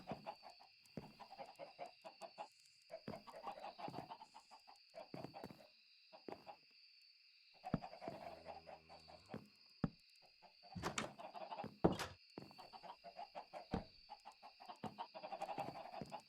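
Chickens clucking in the Minecraft video game, a run of short, scattered clucks and calls at moderate level with a few louder bursts, heard alone without talk.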